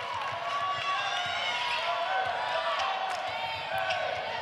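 A women's college basketball crowd rumbles and calls out steadily to urge a player as the shot clock runs down, a sustained arena roar with a few sharp accents.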